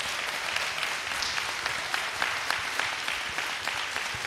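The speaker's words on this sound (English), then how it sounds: "with a big round of applause" Steady applause from a symposium audience thanking a three-man panel on African American gardening and horticulture, dense clapping sustained evenly throughout at moderate level with no talk over it.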